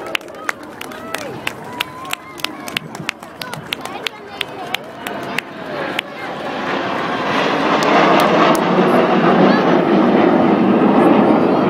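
Red Arrows display jets passing over a seaside airshow at Swansea, starting with a commentator talking over a public-address system amid sharp crackles, then a loud, rising roar of jet engines sweeping close overhead.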